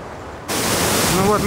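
Waterfall along a trail in Norway, throwing heavy spray, producing a steady broadband roar that swells suddenly louder and fills the scene, with no talk over it.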